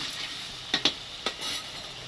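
Spices are stirred into a sizzling tomato masala with onion, garlic and ginger paste in a pan for a rui fish curry. A steady frying hiss is broken by three or four quick scrapes of the utensil, with no voices.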